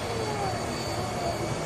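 A jet aircraft engine roars in a steady, loud, unbroken wash of broadband noise with a faint high whine running through it.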